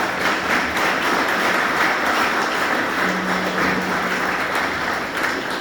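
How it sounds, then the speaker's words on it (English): Audience at a student career forum claps in a sustained, even wash of applause, fairly loud and uninterrupted, with no voices over it. "So I'd like to maybe give a round of applause to the team."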